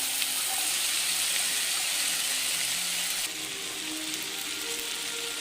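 Vegetables stir-fry with softened tomatoes in a pan for vegetable masala Maggi, a steady, even hiss of frying that shifts slightly in tone partway through, with no talk.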